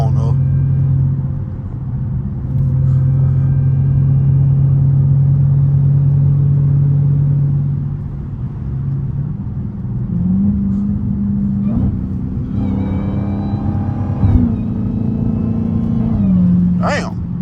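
A catless Hellcat's engine drones and rumbles from inside the car as it drives, with revs climbing and dropping at several gear shifts while someone talks over it.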